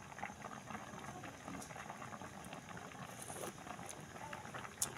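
A pot of vegetable dish with lima beans boils steadily, a continuous soft bubbling and popping with faint scattered clicks, close and quiet, no voices.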